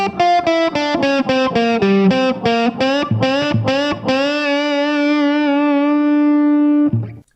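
Distorted electric guitar plays a section: a run of quick, evenly picked staccato notes, then one long sustained note held for about three seconds before a final low note, loud and with no talk.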